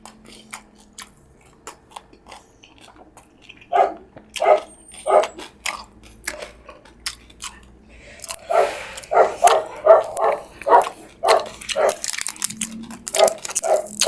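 Dogs bark in the background during an energy-drink and chicharon bulaklak eating challenge: scattered barks at first, then a rapid, louder run of repeated barking, heard alongside close chewing sounds.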